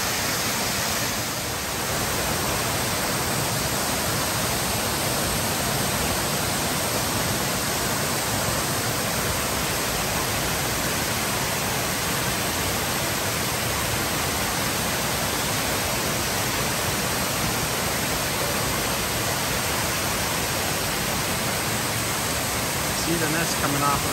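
Soco Falls in the Great Smoky Mountains, North Carolina, pours as a steady, loud, unbroken rush of water that fills the whole scene without pause.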